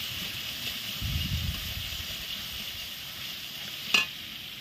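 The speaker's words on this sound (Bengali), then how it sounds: "পরিমাণ মতো হলুদ দেওয়ার পর একটু নাড়াচাড়া করে এরপর আদা বাটা দিয়ে দিই" Turmeric and ginger paste sizzle and fry in a pan while being stirred, a steady soft hiss with low scraping bursts and one brief sharp clink, close and moderately quiet, with no talking.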